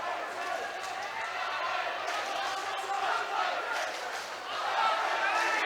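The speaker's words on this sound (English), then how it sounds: "The crowd are getting pumped up now for both sides" A wrestling match crowd growing louder as the wrestlers fight for a takedown, a continuous roar of cheers and shouts filling the arena, swelling toward the end.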